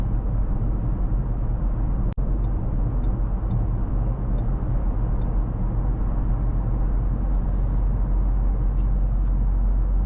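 Cabin of a 2024 Mercedes-AMG GLC 63 S cruising a highway at night: a steady, loud low road-and-engine drone throughout, with one sharp click early on and faint high ticks scattered over the hum.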